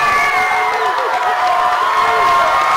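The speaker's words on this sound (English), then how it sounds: "So the crowd trying to get into it." A crowd at a high school basketball game between Boiling Springs and Greencastle cheers and shouts in a steady, loud gym roar. Scattered whoops and children's yells rise through the mass of voices.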